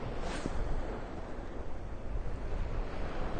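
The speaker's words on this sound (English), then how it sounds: "Sorry, it's really windy" Strong wind buffets a microphone on a snowy Rhode Island beach in cold weather after a snowstorm, a steady loud roar with surf-like rushing throughout and no voices.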